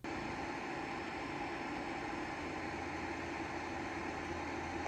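A loud, steady fan drone from an Xbox Mini Fridge hums without pause, a constant whooshing roar with a low mechanical undertone and no other sounds.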